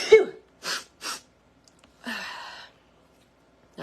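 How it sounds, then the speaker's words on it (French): A single loud, close sneeze bursts out at the start, followed by a few sharp breaths and a sniffling exhale in a quiet room. "Ah, j'ai éternué."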